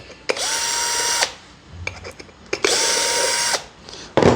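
Screws are driven out of an electric scooter wheel with a power driver, two loud, close whirring bursts about a second long separated by brief handling clatter, with another burst starting at the end.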